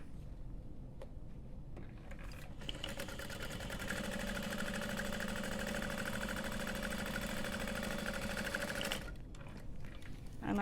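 A sewing machine top stitches a tote's upper lining, starting after quiet handling sounds, running in one steady whirring burst for about five seconds, then stopping.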